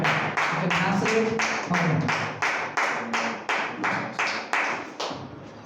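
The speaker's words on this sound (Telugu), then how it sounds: "చప్పట్లు కొడదాం, గట్టిగా చప్పట్లు కొడదాం." A church audience claps in a steady, loud rhythm of about a dozen sharp, evenly spaced beats, with faint voices murmuring underneath.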